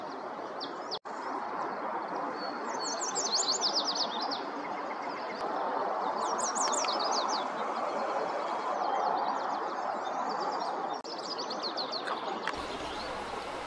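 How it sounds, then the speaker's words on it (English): Repeated bright, sweet song phrases of a yellow warbler ring out at moderate distance near San Diego ponds in April, several bursts spaced over a steady hiss of outdoor ambience. "Yellow warbler."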